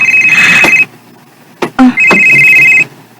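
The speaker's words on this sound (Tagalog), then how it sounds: "Si Junjun ring nanawag" Telephone ringing with an incoming call: two loud, close electronic ring bursts separated by a short gap with a brief clunk, with no talking.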